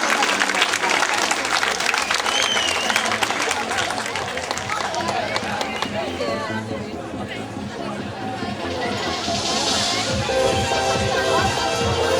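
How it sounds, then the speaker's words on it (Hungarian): Crowd applause at a Hungarian horse herders' show on a ranch, a dense, steady clapping from many spectators mixed with crowd chatter and movement, fairly loud and sustained, with speech in the mix. "Nagy tapsot kérünk a csikósoknak!"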